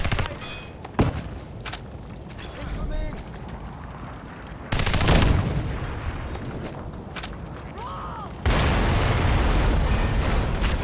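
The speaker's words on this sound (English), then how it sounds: "Let's throw a grenade over here." Gunfire and grenade blasts from the shooter game Crysis Warhead: sharp rapid shots, then loud booming explosions with long rumbling tails, close and dominating, no talk over them.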